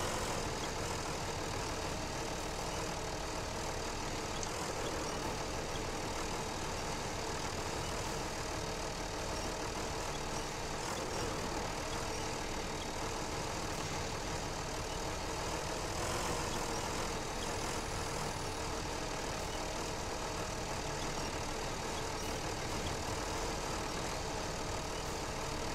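Two tractors in the SnowRunner video game labour up a steep slope, their engines droning in a loud, unbroken, steady roar that never eases, with no talk over it.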